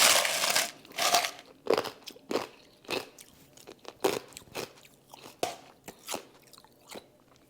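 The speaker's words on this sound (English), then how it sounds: "I need to crunch some ice." Ice being crunched between the teeth, about a dozen loud, close, sharp bites and chews coming in uneven bursts with short pauses between them and no talk.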